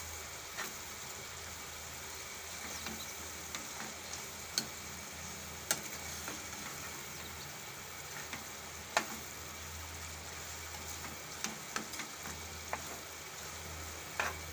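Steady close sizzle of capsicum and curd curry in a pan, with light scraping and occasional sharp clicks of a spoon stirring through it, continuous throughout with no voices.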